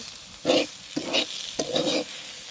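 Taro leaves (kochu shak) cook in a pan and get stirred, three scraping stirring strokes rising over a soft, constant sizzle, close and moderately loud with no speech.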